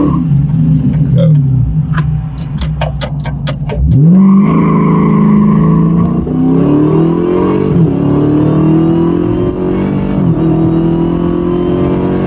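A Dodge Challenger Hellcat launches hard from a stop, its engine roaring loud and close as the pitch climbs steadily through the pull, following a few short sharp clicks and taps.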